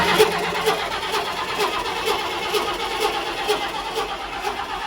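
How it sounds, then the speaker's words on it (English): A Ford 427 engine in a Chris Craft boat, 300 HP and previously slow to crank, turns over on its starter with a steady rhythmic churn and loud mechanical whir, close by. "let's see how our old Ford cranks over now"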